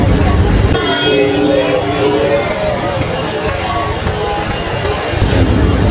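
A vehicle horn honks amid dense traffic and crowd babble near Andheri railway station in Mumbai, with loud, continuous street noise throughout.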